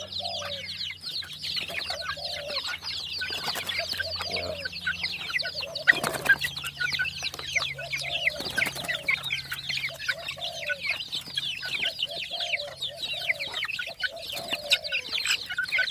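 A mother hen and her growing chicks of fighting-cock stock, kept in a woven basket coop, cluck and peep continuously and close by, with a soft rooster crow in the distance now and then.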